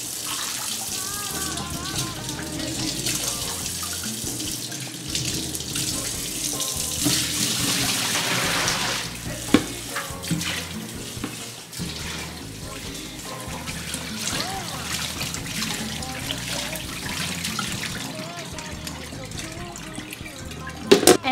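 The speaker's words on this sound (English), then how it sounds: "I'm going to wash again and drain the water." Tap water runs steadily into a sink while ox bones are rinsed and drained for soup, a continuous splashing stream broken by clinks and shifting pours, with faint talk in the background.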